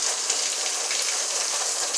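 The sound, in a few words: heavy rain from Hurricane Zeta in Jamaica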